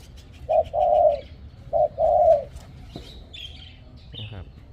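Two pairs of soft, low coos from a decoy dove, close and clear, followed by quieter faint chirps and background noise.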